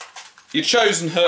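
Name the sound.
dogs barking in the background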